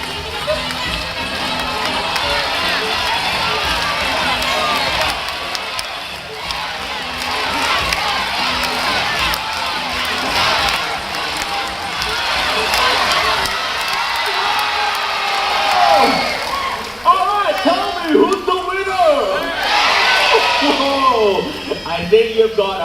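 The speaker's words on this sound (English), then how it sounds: "Now we're gonna count to 3, everyone start cheering, okay?" A crowd at a bird show at Singapore's Jurong Bird Park breaks into loud, sustained cheering and shouting, with children's voices whooping and excited chatter continuing throughout.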